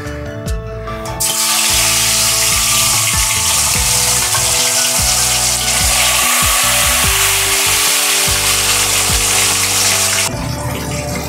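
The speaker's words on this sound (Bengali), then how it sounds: "তেলটা আমার গরম হয়ে গেছে, এবারে আমি মাছগুলো একে একে দিয়ে দেবো।" Vetki fish pieces marinated in salt and turmeric drop into hot mustard oil and fry with a loud, continuous hissing sizzle that starts abruptly and cuts off near the end, heard up close.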